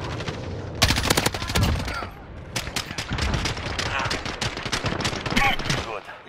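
Gunfire in the video game Call of Duty Modern Warfare, with repeated bursts of automatic shots, some loud and close and others farther off, mixed with game voice callouts and talk.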